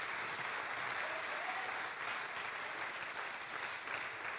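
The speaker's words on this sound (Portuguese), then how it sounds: "Aplauda o Senhor em nome de Jesus." A church congregation applauding in worship: steady, even clapping from many hands fills the space as a soft, continuous patter at a moderate distance.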